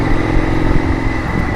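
An Indian FTR Super Hooligan motorcycle fitted with RSD parts revs loudly up close, its engine holding a steady, rough mid-range roar for a moment.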